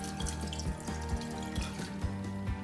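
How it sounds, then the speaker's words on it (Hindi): About a cup of water is poured into a pot of chopped carrots for homemade baby food. The pour makes a steady, close splashing and gurgling stream with small bubbly pulses, and no one speaks. "1 कप के करीब पानी डाल दूंगी।"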